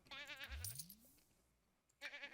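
A single sheep bleats once in a farming video game, a short wavering call close up, followed by a small chime-like game sound.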